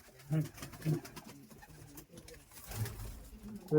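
Giribaz pigeons give soft, low coos in a few short bursts, close by, amid faint background rustle and a distant voice.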